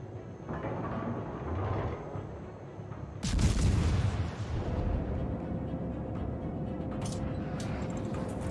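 Naval guns firing during a battleship fight in the World of Warships video game: a loud broadband boom and rumble erupts midway over steady game ambience, followed by sustained roar and a thin tonal hum, with no talk.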